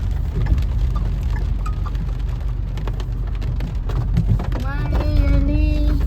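Steady rain falls heavily and close by for the whole stretch, with voices talking faintly underneath and a rising tonal whine near the end.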